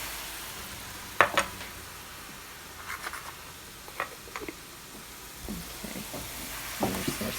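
Vegetables sizzle softly in coconut oil while being stirred, a quiet hiss broken by several scraping and clinking utensil strokes against the pan, no talk.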